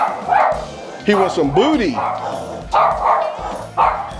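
A hound dog barks and yips loudly and close by in a yard outside, several sharp bursts with whimpering howls between them, while someone talks over the barking.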